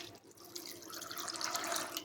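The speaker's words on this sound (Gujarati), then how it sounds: "તો આપણે અહીંયા 3 વાર પાણીથી ધોઈ લઈએ છીએ" Dried peas soaked with baking soda being washed in water, heard as steady running and splashing water in a vessel under a tap, close and moderately loud, with no voices.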